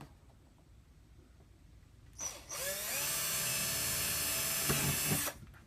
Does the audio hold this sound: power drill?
yes